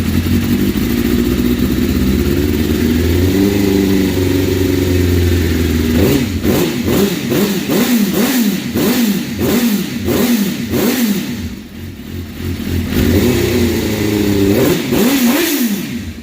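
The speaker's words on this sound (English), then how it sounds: "that low rumble, that nice deep tone." A motorcycle with a Yoshimura exhaust idles with a deep, low rumble, then revs in a quick series of throttle blips, dips briefly, and revs again, loud and close.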